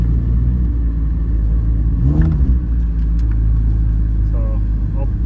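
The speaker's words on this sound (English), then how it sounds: "As you can hear, it's quite loud. Pretty good exhaust leak." A 2013 Honda Fit with a loud exhaust leak at the catalytic converter gasket, heavy droning low rumble throughout from inside the moving car, with a voice speaking briefly over it.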